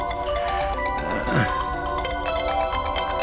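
A phone ringtone plays continuously, a steady repeating electronic melody with regular pulsing notes over background noise.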